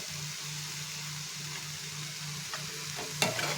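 Drumstick flowers cooking with salt in a pan give a low, steady sizzle with a low hum beneath, followed near the end by a short clatter of stirring.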